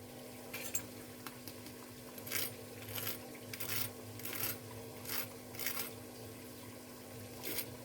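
A freshly fried crispy cutlet breaking apart with a series of sharp, close crackling crunches spaced every half second or so, over a faint steady background hum.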